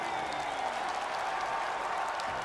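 An esports arena crowd cheers and applauds in a dense, steady roar of clapping and voices that holds at an even level throughout.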